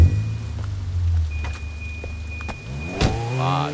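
In the Sleeping Dogs video game, a guard's car is taken, with a car door and a running engine close by, a whirring mechanism and a rising rev near the end, and no talking.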